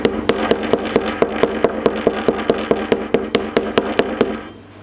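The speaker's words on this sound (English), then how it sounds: "Take our chuck hammer." A chuck hammer's heavy toothed side pounds frozen fishing bait, about fifteen sharp, close, evenly paced blows landing one after another before falling quiet.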